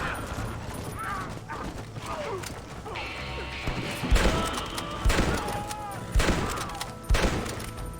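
Gunshots in Red Dead Redemption ring out as four loud, evenly spaced cracks in the second half, each with a short echo, following a stretch of hoofbeats, rattling mechanisms and game ambience, with voices talking in the background.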